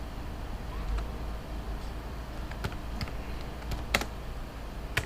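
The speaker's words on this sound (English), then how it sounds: "So I'll type my name." Keystrokes on a computer keyboard while typing a name into a word-processing document, a steady patter of light clicks with a few sharper taps over a low background hum.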